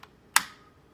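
A single sharp click of a keyboard key, brief and close, preceded by a fainter tap.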